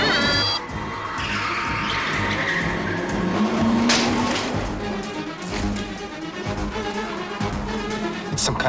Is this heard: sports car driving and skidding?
yes